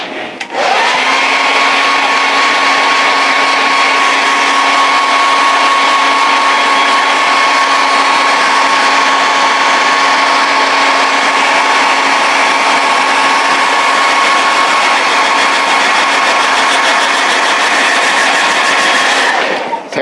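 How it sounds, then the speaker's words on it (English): A hair dryer blows continuously while paint is dried on a vinyl figure kit, a loud steady whirring hum with a stable pitch that starts abruptly and cuts off at the end. "Do the hair dryer."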